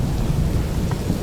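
Heavy rain pours along a wet mountain trekking trail in northern Pakistan, a dense close hiss with a low, continuous rumble of thunder underneath, loud and unbroken.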